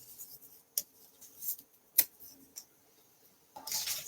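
Paper being cut with scissors for a scrapbook page, pressed against a flat surface: a few quiet, sparse snips and clicks separated by near silence, with a soft rustle toward the end.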